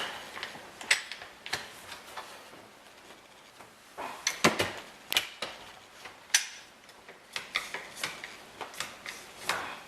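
Wooden clamps being tightened on boards for a distressed American flag build, giving a series of close, sharp ratcheting clicks and knocks at an irregular pace, with no talk.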